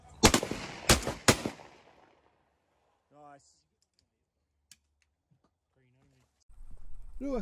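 Three loud, sharp shotgun blasts fired in quick succession during an opening-morning duck hunt, each followed by a ringing tail, then near silence with faint sounds and a voice speaking at the end.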